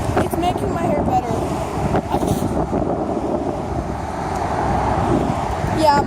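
Strong outdoor wind buffets the microphone in a steady, loud rumble near the water with a boat nearby, lasting throughout while people talk over it.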